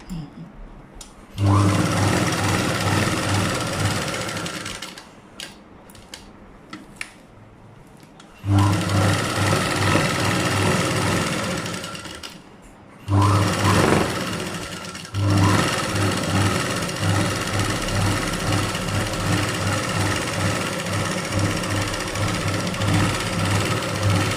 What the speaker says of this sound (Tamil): இந்த லைனிங் துணி மேலே ஓரமாக தையல் போட்டு வரணும்.